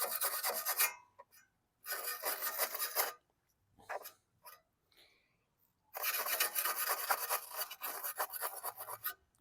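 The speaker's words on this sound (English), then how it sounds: "I'm just taking a little bit of oil and rubbing it on here to bring out the numbers." A rag with oil rubbed hard over a rusty metal tab on a Masport 800AL lawn mower: close, gritty rasping strokes in several bursts separated by short silences and faint taps.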